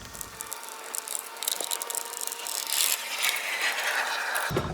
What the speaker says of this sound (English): Let's go ahead and get those screws out.